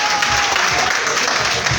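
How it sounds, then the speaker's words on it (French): Audience applause at a rumba concert in a discothèque, welcoming a producer: a short, loud, dense burst of clapping and crowd noise. "Applaudissements pour David Monceau, s'il vous plaît."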